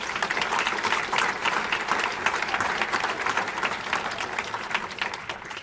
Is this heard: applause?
yes